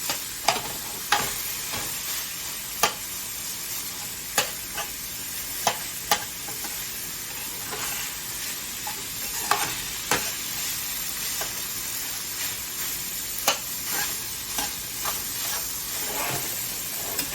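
Ground meat frying in a pan for egg roll bowls: constant close sizzle and hiss, broken by frequent sharp scrapes and taps of a utensil stirring at an irregular rhythm, with no talking.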